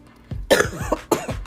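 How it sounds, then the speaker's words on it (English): Someone with an upper respiratory illness coughs, a short throat-clearing burst followed by two harsh, chesty coughs, close and fairly loud with brief gaps between. "you're going to hear me trying to catch my breath every now and again and coughing"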